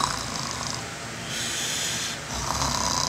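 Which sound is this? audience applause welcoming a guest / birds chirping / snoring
snoring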